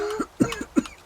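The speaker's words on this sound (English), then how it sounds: "sorry, cough." A short run of three or four quick, close coughs from a man, uneven and somewhat muffled, alone with no talking during it.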